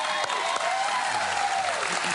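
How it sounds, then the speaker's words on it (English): A studio audience on a live daytime talk show breaks into sustained applause, a steady wash of clapping that fills the room from start to finish. "Did he make you applaud that?"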